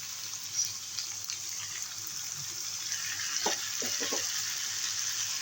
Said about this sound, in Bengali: এবারে মশলাটা দিয়ে দেবো